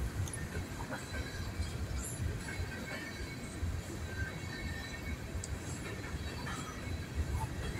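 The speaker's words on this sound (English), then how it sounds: "this train has stopped, but the other train is still going" A train rumbles past on the tracks, a steady heavy roll with rattling wheels and faint squeals, continuous throughout.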